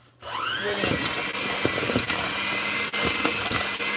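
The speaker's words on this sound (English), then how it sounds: "creaming butter and sugar together basically means combining them till there is a good amount of air in there" An electric mixer spins up and runs loudly with a high whine, its beaters clattering and knocking irregularly as they cream butter and sugar into a thick mixture.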